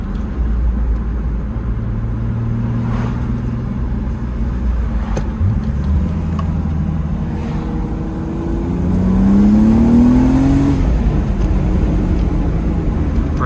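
Supercharged BMW E36 M3 on the road, engine rumble under steady cruising, then rising as it accelerates with a climbing supercharger whine, fairly close and loud.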